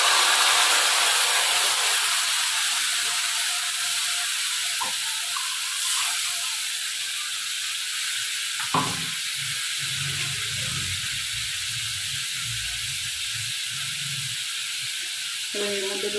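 Spices frying with browned onions in a hot pan, heard as a steady close sizzling hiss throughout, with faint clinks and stirring scrapes underneath.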